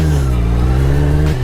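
A 2019 Honda CBR 650R, restricted for the A2 licence, held at a steady loud engine drone while riding, its pitch sliding slightly down and then dropping near the end as the revs ease.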